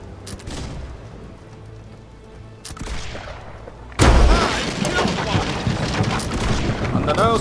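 Ship cannons in Blackwake fire in a naval battle, a few sharp reports early on, then a heavy boom followed by a loud, rumbling barrage and debris noise, with scattered voices.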